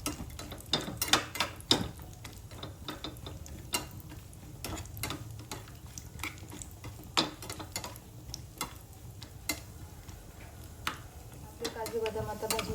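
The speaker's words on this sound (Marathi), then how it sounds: "काजू बदाम आणि हे आपले किसमिस छान भाजून घेऊया." Cashews, almonds and raisins roasting in a hot pan for carrot kheer, with irregular clicking and scraping as a spoon stirs them, light sizzling underneath, close and fairly quiet.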